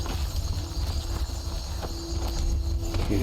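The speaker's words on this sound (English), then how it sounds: "Now let's grab our horse." Horse hooves clip-clop at a steady walking pace in the video game Skyrim, a soft rhythmic patter over a constant low ambient rumble, with a faint tone near the end.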